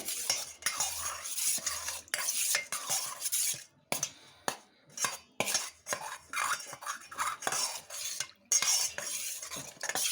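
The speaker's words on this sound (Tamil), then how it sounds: "இதை நம்ம இது இப்போ கெட்டிகள் இல்லாமல் கலக்கி விட்டாச்சு" A spoon stirs diet powder porridge mix in a vessel to break up lumps. Rhythmic scraping and clinking strokes sound close and steady, with brief pauses, and nobody speaks.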